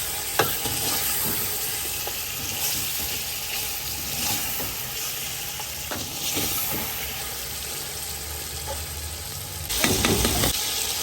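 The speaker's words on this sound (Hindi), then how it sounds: "ये अदरक लहसुन के साथ मैं चिकन को भूनूंगी थोड़ा, ताकि इसकी स्मेल निकल जाए" Chicken sautéed with ginger and garlic in a pan for badami korma gives a steady close sizzle with scraping stirs throughout, swelling into a louder hissing burst near the end.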